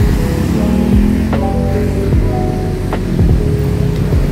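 Cikapundung river water flowing in a steady, continuous broadband rush, loud and close, with no talk over it.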